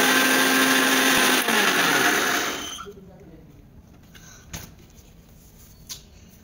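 A blender whirs loudly for about two and a half seconds, mixing oil into homemade mayonnaise, then cuts out, leaving quiet room tone with a couple of faint knocks.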